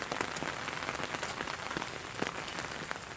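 Steady rain patters on a surface as a continuous, even hiss with scattered sharper drops, close and moderately quiet, with no voices.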